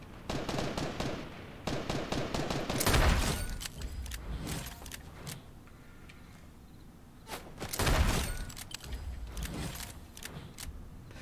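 Rifle shots ring out in a video game amid ongoing fighting, two sharp loud reports standing out over a backdrop of scattered distant gunfire and mechanical clatter.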